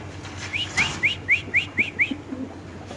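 A male pigeon at a pigeon farm gives a run of about seven evenly spaced, clear whistling calls close by over a quiet background.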